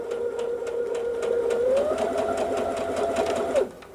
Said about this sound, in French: Elle a fait le point arrière.